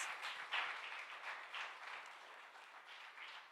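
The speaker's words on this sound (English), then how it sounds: "I think we should give them a very big round of applause" Audience applause at a live youth brainstorming session on the future of work, a quiet, distant patter of clapping hands that swells slightly early on and then tapers, with no voices over it.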